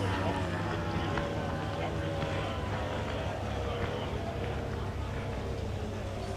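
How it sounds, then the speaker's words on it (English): A blown alcohol displacement race boat idles in the pits with a deep, rumbling, continuous drone, loud and steady throughout with no clear pauses. "We can hear one of the blown alcohol displacement boats idling in the pits."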